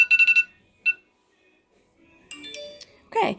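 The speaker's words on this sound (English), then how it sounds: "Our phosphate timer just went off, just in time." Lab timer alarm sounding, a quick series of four sharp electronic beeps followed by a single beep, then faint clinks and a brief voice.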